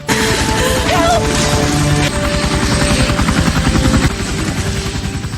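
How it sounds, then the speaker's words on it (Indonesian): A search-and-rescue helicopter thunders close overhead, its rotor beating in a fast steady pulse that stays loud throughout. "helikopter tim SAR pun datang untuk menolong Ava"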